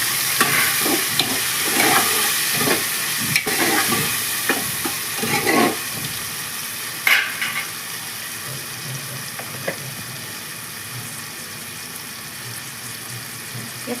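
Chopped tomatoes sizzle and fry in a pan for Gujarati kadhi pulao, with a steady close hiss broken by repeated scraping clinks of a spoon stirring through the first half.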